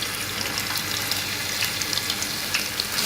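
Ginger garlic paste crackles and sizzles in hot ghee in a pan, a dense, even hiss with small pops, close and steady throughout.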